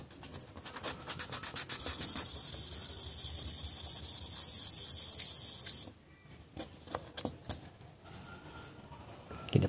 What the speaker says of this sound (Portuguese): E vamos lixar isso aqui tudo agora.